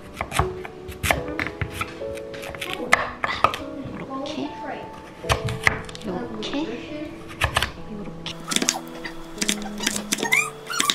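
A knife chops food on a cutting board in a home kitchen, with quick irregular bursts of close, sharp chops and short pauses, while people talk nearby.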